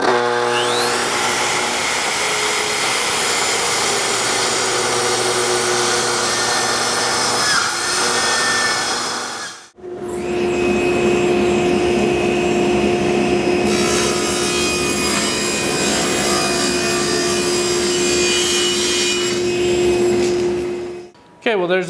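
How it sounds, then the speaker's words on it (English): Table saw breaking down plywood sheets: two long, loud, close cutting passes with a blade whine and a grinding wood rasp, separated by a brief gap, with no talking. "I'm gonna set up the table here, pull my insert out so I got a place for the blade, and we're gonna go ahead and start breaking down plywood"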